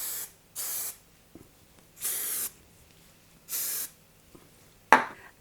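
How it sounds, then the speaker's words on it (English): Hairspray from an aerosol can is misted onto an updo of fine hair in several separate bursts, each a steady hiss lasting about half a second, with pauses between and a sharp click near the end. "spray it with a bit of hairspray"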